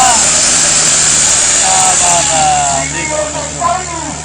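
Tractor engine working in a trolley-pulling competition, a loud steady rumble with shifting engine tones, heard over crowd noise and talk.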